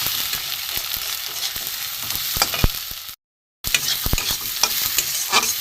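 Spice powders such as coriander, chili, turmeric and garam masala fry loudly in oil for a fish roe fritter curry, with a dense close sizzle and repeated spoon scrapes and clanks against the pan, broken by a brief silent gap.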